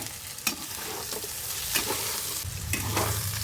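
Whole dried chillies dropped into hot oil while cooking kundru, an even close sizzle with a few sharp pops and clinks of stirring, no voices.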